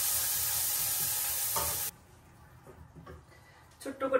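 Onion, turmeric and spices sauté in a pan, giving a loud, dense sizzle with stirring for about two seconds before it drops abruptly to a quiet background, with faint voices at the end.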